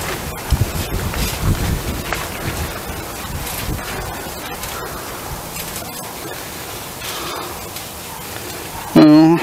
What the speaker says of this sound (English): Even though I have a wind guard on it, it still might pick it up since it's real windy.